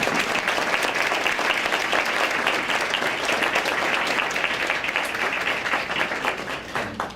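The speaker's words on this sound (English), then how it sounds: "We can give a round of applause." Sustained applause from an audience at a state teacher of the year ceremony, a dense, steady wash of clapping filling the whole stretch at even loudness before tapering slightly at the end.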